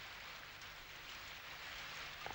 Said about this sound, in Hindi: देखो बरसात।